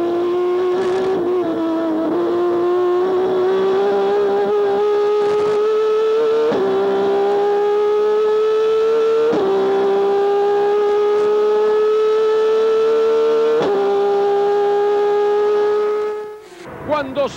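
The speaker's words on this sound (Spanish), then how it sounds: "tenemos las cámaras en los dos autos, tanto el de José Luis Di Palma como el de Guillermo Ortelli, ahí estamos sobre el auto de Guillermo" Onboard a Turismo Carretera race car during the 2002 opening final at Mar de Ajó, a loud engine drones steadily and climbs in pitch through repeated upshifts, each gear change breaking the tone before it rises again, then cuts out near the end.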